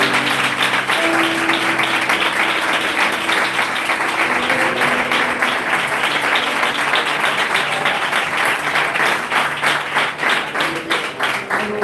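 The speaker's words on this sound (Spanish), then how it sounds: "vamos a dar un fuerte aplauso al Señor." A church congregation in Benidorm claps loudly and continuously, the crowded applause turning into a rhythmic, roughly unison beat over its last seconds, with some voices mixed underneath.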